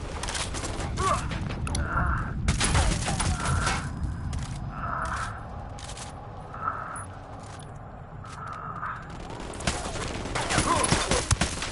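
A Ghost Recon firefight plays out with ragged bursts of gunfire. Sharp shots crack repeatedly across the whole stretch, alongside metallic clinks and rattles, with faint voices now and then.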